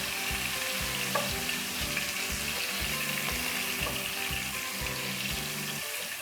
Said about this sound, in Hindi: बस हल्का सा इसको फ्राई करेंगे।